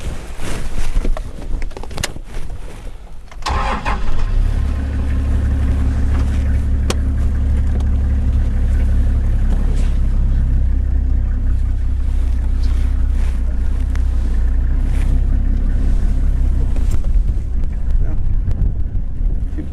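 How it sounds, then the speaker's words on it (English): A safari vehicle engine rumbles low and steady at close range while reversing in Mashatu, Botswana, with wind buffeting the microphone throughout. "you are clear to reverse on my side"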